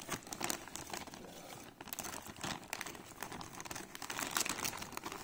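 Crinkly bag handled close up among a diecast military Hummer set and its accessories: a steady run of crumpling and rustling that swells and dips for several seconds, with no talk.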